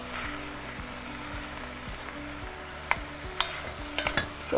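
Chunks of meat for Turkish tas kebab sizzle steadily in a hot pan, with a few sharp scraping clicks of stirring near the end, close and moderately loud.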